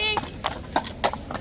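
Hooves of mounted police horses in full riot gear clip-clop at Horse Guards in London, a few sharp separate strikes close by, with a person talking over them.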